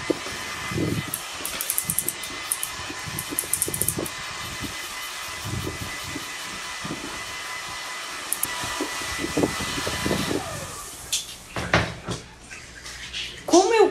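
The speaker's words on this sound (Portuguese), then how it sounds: "Agora eu dou mais uma secadinha com o secador para acelerar o nosso trabalho aqui." A hair dryer blows steadily over a recycled plastic bottle craft piece, a continuous airy hiss running through the whole stretch with small knocks and handling clatter, louder bumps toward the end.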